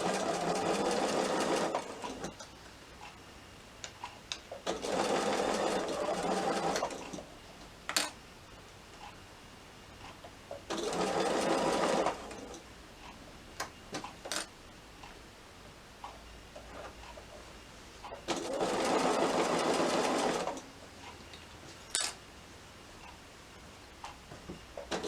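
Sewing machine with a walking foot stitching a small batik wallet, four bursts of rapid mechanical chattering, each a few seconds long, separated by quiet pauses with occasional ticks and clicks.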